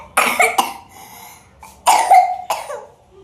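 A person coughs in several harsh close bursts, two clustered groups separated by a pause, with no talk.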